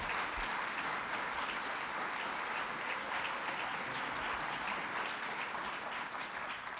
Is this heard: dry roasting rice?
no